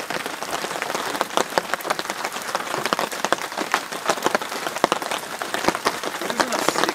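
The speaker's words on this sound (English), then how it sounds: "Another rainy morning." Steady spring rain patters on a camp tarp, a dense, close crackle of drops with irregular louder splats throughout, with no talking.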